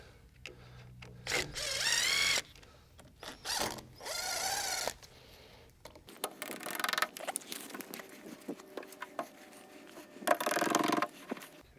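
Screws are backed out of panel handles with a tool, a series of close whirring bursts followed by lighter scraping, clicking and rattling movement, with no speech.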